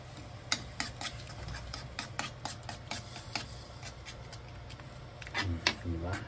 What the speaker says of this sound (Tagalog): Tapos ihalo lang natin yan.